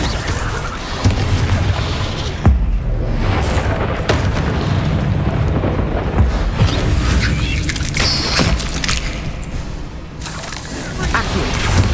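Descendo spell impacts in Hogwarts Legacy on PS5 land as heavy, loud booms and crashes that roll into one another, filling a dense, continuous rumble for the whole stretch.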